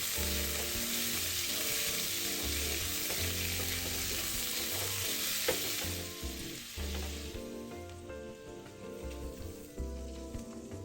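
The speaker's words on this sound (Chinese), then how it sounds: "虾下锅滑油约20秒，虾身变色立刻捞出。" Shrimp being briefly fried in hot oil, a loud, continuous sizzle that fills the clip, easing slightly after the midpoint, with no voices.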